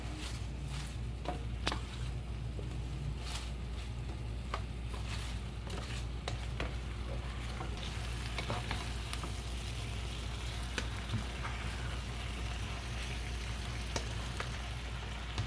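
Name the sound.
stirring spinach and garlic frying in a hot pan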